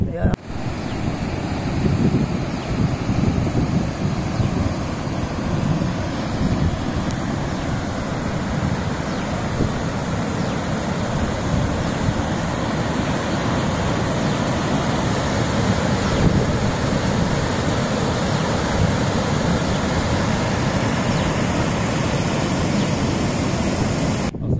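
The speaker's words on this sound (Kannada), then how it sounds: "ಈ ಕೆರೆ ಕೋಡಿ ಹೋಗಿದೆ, ಕೋಡಿ ಹೋಗ್ತಾ ಇದೆ" Water pouring steadily over the spillway of the overflowing Mavathur Lake in Tumkur district after heavy rain, a continuous loud rushing roar mixed with wind buffeting on the microphone, lasting throughout.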